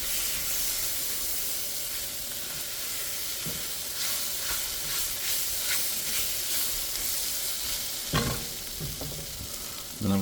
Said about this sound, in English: Mix this together fairly well.